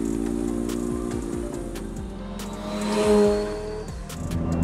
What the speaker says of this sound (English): Putting break-in miles on it.